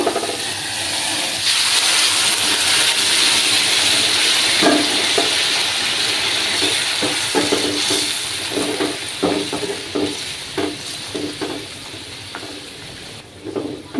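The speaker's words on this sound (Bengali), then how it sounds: "এবার আমি জল দিয়ে দেবো। আমি গরম জল দেবো।" Hot water poured into a pot of tangra fish curry with ridge gourd and potato, a loud rushing pour and bubbling hiss that fades into scattered sputtering and clinks toward the end, with no speech.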